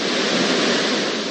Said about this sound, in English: water is surging out of the woods and into his family's neighborhood